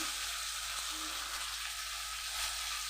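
Steady, quiet hiss of chopped tomatoes sizzling in a frying pan, continuous and even with no talking.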